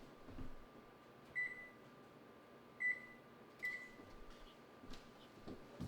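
A kitchen oven beeps three times while it is being set to preheat, with short electronic tones spaced about a second apart over a quiet hum. A few soft clicks and knocks follow.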